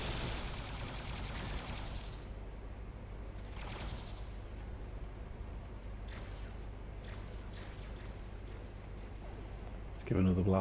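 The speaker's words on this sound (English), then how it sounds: "Give another blast with the minigun." Minigun firing in Star Trek Online, a loud sustained burst of rapid fire at the start that trails off, with someone talking over the rest.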